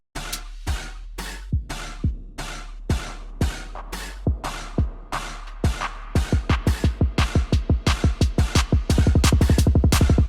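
Bou-style drum and bass drum loop built in Serum, with reverb automated and filtered down into the pre-drop, punchy hits speeding into a dense rapid roll at the end, no voices.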